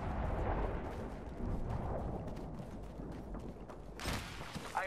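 Gunfire and explosive impacts in the battle royale shooter Apex Legends, a dense, continuous barrage of shots and rumbling blasts that stays loud throughout, with a sharp burst of noise near the end.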